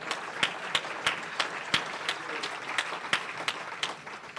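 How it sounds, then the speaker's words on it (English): Audience at a club meeting applauding, a steady patter of clapping with a few sharper individual claps standing out, moderately close and continuous. "You can applaud for that."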